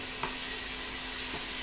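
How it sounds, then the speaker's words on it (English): Duck curry fries in a pot with a steady close hiss of sizzling oil, broken by two brief stirring scrapes, and no talk. "Frying off our curry"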